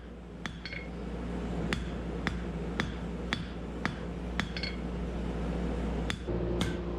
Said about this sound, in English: So I'm going to dress it up on the anvil.